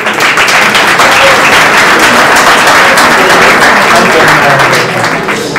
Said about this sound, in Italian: Applauso più forte.